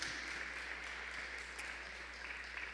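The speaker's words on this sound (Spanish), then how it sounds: "¿Le puede dar un aplauso, hermanos?" Church congregation applauding during a Spanish-language worship service: a steady, even wash of clapping from many hands, fairly distant and uniform throughout, with no distinct individual claps standing out.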